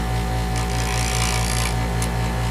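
A bench grinder grinds a motorcycle seat part with a loud, constant motor drone and a steady pulsing rumble, with brief harsh bursts of grinding contact.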